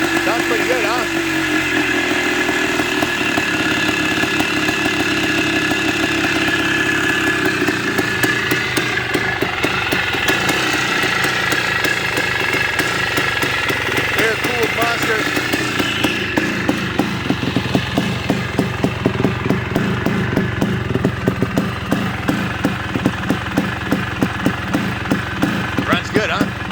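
A one-off custom two-stroke motorcycle engine runs steadily throughout, rumbling and revving at idle with a rough, pulsing rhythm, and people talk faintly underneath.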